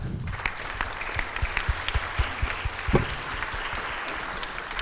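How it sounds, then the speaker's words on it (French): A conference audience at an economic and social policy round table applauds its speakers, with many hands clapping in an uneven, lively patter and a few louder nearby claps standing out. "je vous prie d'applaudir nos intervenants"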